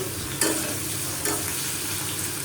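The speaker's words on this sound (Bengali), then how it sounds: "আলুটা ভাজা হচ্ছে" Potatoes fry in a pan in a home kitchen, a continuous close sizzle broken by two brief stirring scrapes, with no voices.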